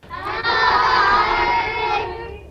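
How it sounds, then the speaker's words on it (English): Primary school children cheering together in their classroom, a loud burst of high-pitched shouting voices that swells quickly, holds for about two seconds and then fades. "give us a wave and a cheer in your classrooms, children"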